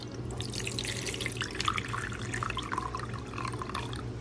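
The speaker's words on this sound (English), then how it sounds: "So let me pour in some water first." Water pours steadily into the reservoir of an Ovente electric food steamer, a continuous close splashing and trickling with no speech.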